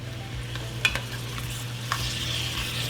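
Vegetables for pumpkin soup sweat down in a pot with a soft, steady sizzle, broken by a few light clinks and scrapes of stirring.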